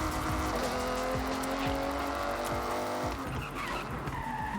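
A car engine in the Forza Horizon 6 video game holds a steady tone as tires squeal and skid through a drift, loud and continuous with no one speaking.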